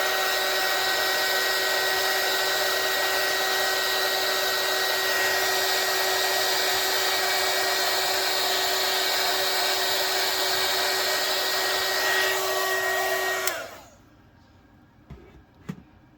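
A small handheld tool blows bubbles out of UV resin with a steady, loud whirring hum for about thirteen seconds, then cuts off, leaving faint handling clicks.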